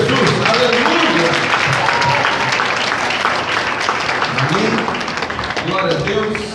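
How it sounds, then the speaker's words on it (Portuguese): A church congregation gives sustained applause that fills the room at a loud level and tapers slightly toward the end, with a voice speaking over the clapping. "louvamos ao Senhor com uma salva de palmas no nome de Jesus"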